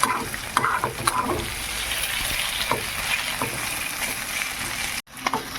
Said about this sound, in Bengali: বাড়িয়ে রেখে লাল লাল করে ভাজছি